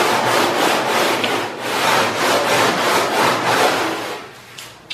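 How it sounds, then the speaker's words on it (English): Rhythmic back-and-forth strokes of 100 grit purple sandpaper on a rubber sanding block scrubbing a wooden kayak hull, steady and close, repeating about every half second with no voices. "This is the 100 grit purple sandpaper on a sanding block, a rubber sanding block,"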